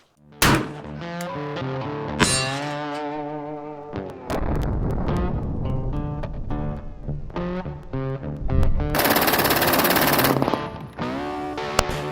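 Gunshots from factory ammo fired through a new Outlier barrel ring out as several sharp reports with a strong echo, mixed with distorted musical sound.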